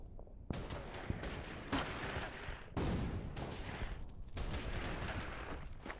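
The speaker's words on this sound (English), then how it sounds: "Let's go open fire on them at least." Sustained gunfire in the Order of Battle: Burma Road war strategy game, with dense overlapping shots and bursts rolling continuously at steady loudness, a few sharper reports standing out, and no talking.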